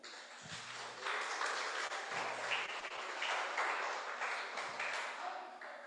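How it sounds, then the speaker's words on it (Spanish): A church congregation applauds, a sustained wash of clapping that swells after the first second and carries on under faint tonal keyboard notes. "Dele un aplauso al Señor."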